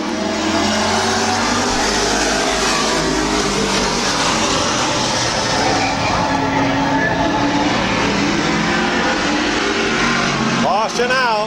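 Stock race cars circle Midvale Speedway in a dense, continuous engine roar that rises and falls as they pass. Crowd or announcer voices sit low underneath, and the noise drops off sharply near the end.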